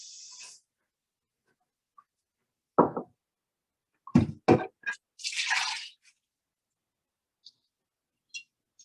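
Soybeans are dumped into a colander in a quiet sink setting, making a few soft wet squishes and knocks, then a short rattling pour of beans. Scattered faint clicks and drips follow in near silence.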